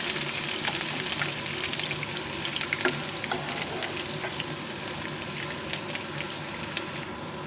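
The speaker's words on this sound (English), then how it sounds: "fry for a while." Chopped onion frying in a pan for a chicken gravy, a loud dense sizzle with scattered crackles and pops that runs steadily throughout.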